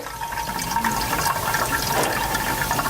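Mango mixture pours into an Italian ice machine with a steady, rushing liquid splash, loud and close and continuous throughout, with no talking.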